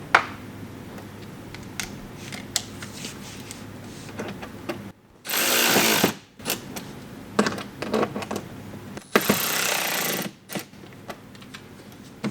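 A power tool drives screws to fasten rally-style Rokblokz mud flaps onto a 2022–2024 BMW X3 M, in two short, loud whirring bursts separated by quieter handling clicks and taps.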